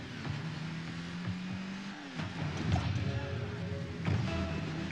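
A car in a ball-and-goal video game revs and boosts forward, the game engine roaring and surging with a rising pitch and some whooshes. It plays at a moderate level with no speech.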